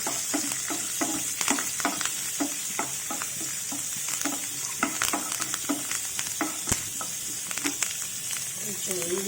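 Oil tempering with urad dal, mustard seeds and cumin sizzles in a pan, a steady close crackle punctuated by rhythmic stirring scrapes.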